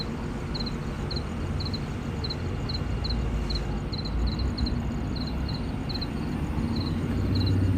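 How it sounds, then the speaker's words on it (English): A cricket chirps in short, regularly spaced bursts on a Los Angeles night, steady and fairly close, over a continuous low rumble of city traffic. "We have an active cricket over here too."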